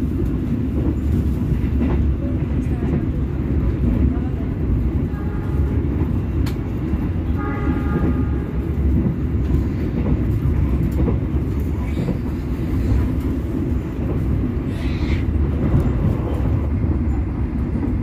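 A steady, loud rumble of an intercity train running from Jakarta to Semarang, heard from inside the carriage as a continuous drone with faint wheel clatter and occasional squeal.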